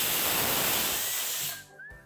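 A loud steady hiss of escaping steam, like a pressure cooker venting, cuts off abruptly, leaving a brief faint tone and quiet.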